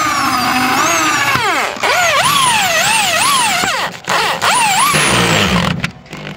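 A power drill drives a 5-inch screw into a puff panel with a loud, continuous whine whose pitch repeatedly dips and rises as the motor loads and frees, with a few short pauses.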